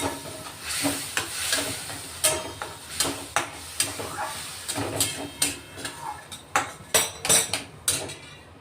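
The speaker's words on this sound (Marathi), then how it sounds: "हा मसाला आपण चांगला शिजवून घेणार आहे." Masala cooks in a kadhai with a little added water, a steady sizzle under repeated sharp scrapes and clinks of a spoon stirring against the metal pan, close and fairly quiet.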